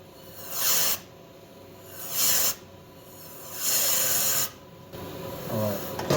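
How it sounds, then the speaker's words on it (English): Pressurized water spray forced through a clogged car heater core: three separate hissing, rasping bursts about a second each with pauses between, close and fairly loud, followed by quieter gurgling and rustling, no voices. "that first couple of sprays I just did, nothing was coming out on that other side"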